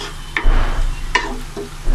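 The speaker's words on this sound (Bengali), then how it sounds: "পেঁয়াজগুলো ভাজা ভাজা হতে থাকবে" Onions fry in hot oil while a spoon stirs them through the pan, in a dry fish and bean dish being cooked; a steady loud sizzle runs throughout with several scraping stir strokes, close up and without talk.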